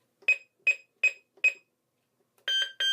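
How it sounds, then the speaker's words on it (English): A Scantronic 9448 alarm panel emits four short, evenly spaced beeps, then after a pause two longer, louder confirmation bleeps, all close and clear against silence. "those two bleeps are basically saying that the alarm has acknowledged that"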